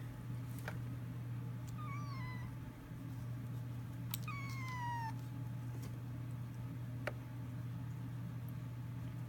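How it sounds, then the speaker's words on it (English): A pet cat meows twice indoors, each call a clear rising-falling cry a couple of seconds apart, close to the microphone over a steady low electrical hum, with no one talking. "And that's my cat meowing."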